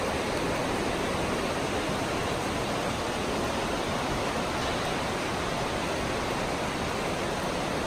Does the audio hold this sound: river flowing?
yes